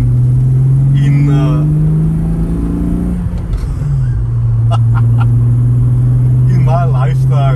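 A Volkswagen Golf Mk3 VR6 engine idles with a steady low hum close by, its pitch shifting slightly midway, while a person talks over it intermittently.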